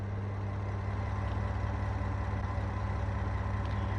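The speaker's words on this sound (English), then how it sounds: "Let's hear this locomotive go off." A steady low diesel locomotive engine rumble from the Train Sim World 6 Dresden Nahverkehr route, running continuously and fairly loud with a constant throbbing drone and no talk.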